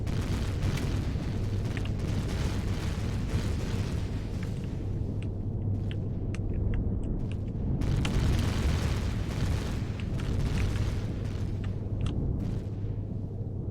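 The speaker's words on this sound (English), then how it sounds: "look at all these explosions" Explosions roar continuously in the space combat game Empyrion during a multiplayer PvP fight, a loud, dense rumbling wash with bursts and crackles layered on top throughout.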